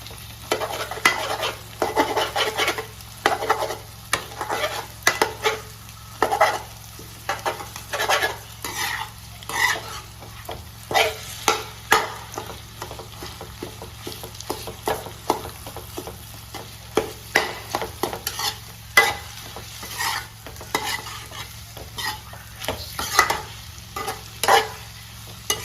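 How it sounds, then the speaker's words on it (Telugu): Egg and garlic pieces frying in oil in a pan for a spicy kaaram, with a spatula stirring and scraping in repeated bursts over a steady low sizzle, close and clear with no talking. "ఇలా వేగిన తర్వాత ఆయిల్ సపరేట్ అయ్యి కొంచెం నొరగ వస్తుంది."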